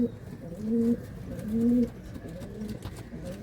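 A racing pigeon coos close by, several deep, rolling calls in a slow rhythm that rise and fade, with a quiet loft background in between.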